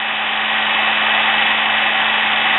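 A sewing machine's small electric motor whirs steadily and loudly while sandpaper is held against its commutator, giving a constant bright hiss with a faint hum beneath.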